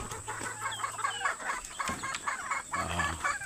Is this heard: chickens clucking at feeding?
yes